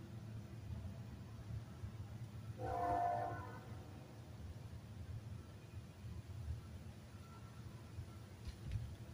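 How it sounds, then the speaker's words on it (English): A train horn gives one short blast, distant and muffled, over a steady low rumble of rail traffic and outdoor noise. "The short blast means there are other trains in the area."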